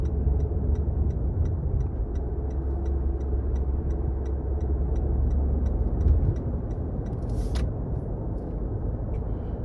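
Toyota Prius cruising around a mountain road, steady low road and engine rumble from inside the cabin with a soft regular ticking over it and a brief higher squeak near the end.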